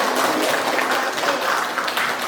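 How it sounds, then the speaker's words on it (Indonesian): Classroom applause from students during a lesson, a steady dense patter of clapping at moderate level that continues without break for a couple of seconds. "Tepuk tangan juga buat."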